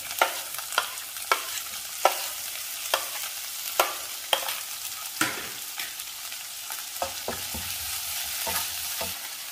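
Crushed shallots sizzle in hot oil with ginger and garlic, close up and steady, while a spoon scrapes and stirs the pan in about a dozen sharp, regular knocks.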